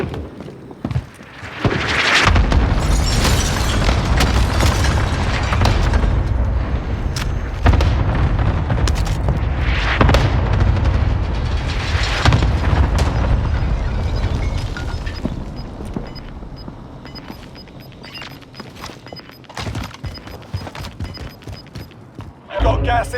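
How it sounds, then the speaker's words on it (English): Several heavy booms from a cluster strike in a shooter video game, loud bursts rolling through the first half and then thinning out, with game voice callouts over them. "Enemy cluster strike incoming."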